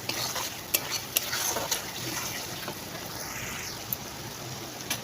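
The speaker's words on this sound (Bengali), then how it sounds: "আর অল্প হলুদ দিব দিয়ে নাড়াচাড়া করে ভালো দেখো নাড়াচাড়া করে নিয়ে" Fish curry masala with turmeric is stirred in a pan, with soft frying sizzle and a few sharp scrapes and clinks of the spoon against the pan at irregular intervals.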